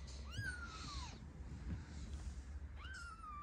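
A cat with her month-old kittens gives two clear, rising-then-falling meows, one early and one near the end, with a quiet pause between and no talking.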